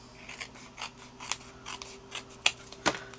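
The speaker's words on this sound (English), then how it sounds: "let's cut that down" Scissors cutting notecard paper, a run of crisp snips in an uneven rhythm, close and fairly quiet, no voices.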